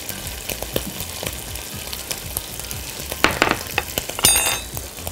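Bacon fries in a pan with a close, continuous crackling sizzle, punctuated by sharp pops and spatters that grow busier toward the end, with no talking.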